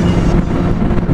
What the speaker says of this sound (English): God, it's so freaking windy.